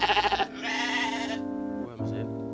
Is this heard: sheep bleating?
yes